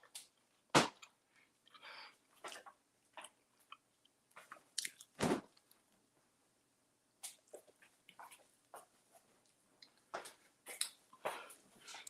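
Close, crisp crunching bites of a spaghetti sandwich, irregular loud crunches spaced by quiet pauses as someone chews, with no talking.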